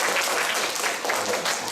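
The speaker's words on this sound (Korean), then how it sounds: "이런 말씀하면 박수 치거나 이러지 않나요?" Applause from a church congregation during a joint prayer meeting, a steady dense patter of clapping that runs evenly for under two seconds, fairly loud and without voices over it.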